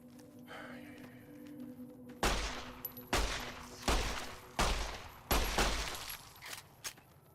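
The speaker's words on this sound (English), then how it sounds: "The rate of fire on this handgun isn't..." A handgun fires in Fallout: New Vegas with five loud, sharp shots spaced about a second apart, each followed by a short decaying tail, over a low ambient game hum.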